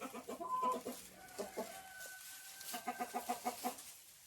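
Laying hens in their nests cluck in short repeated bursts, a clear rhythmic run of clucks near the end, moderately close.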